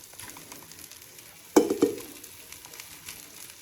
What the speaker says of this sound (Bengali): এটাকে এইবার একটু হালকা করে ভেজে নেব